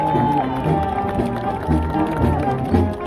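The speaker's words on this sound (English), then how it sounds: "The parade finally starts and the energy of the crowd explodes into cheers and applause." A Day of the Dead parade crowd in Mexico City cheers and applauds, a thick roar of voices with music and scattered clapping mixed in, loud and continuous throughout.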